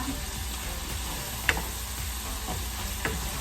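Garlic and onions fry in a pan with a soft, continuous sizzle, broken by a couple of light clicks or taps from stirring.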